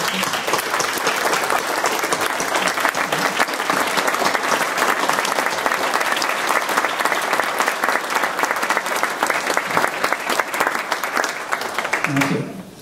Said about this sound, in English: So I'd like to initiate a round of applause